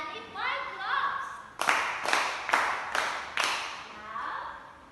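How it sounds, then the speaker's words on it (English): Students in a classroom clap in unison five times, sharp crisp bursts evenly spaced after a moment of chatter, with voices before and after the claps. "Give Annie 5 claps."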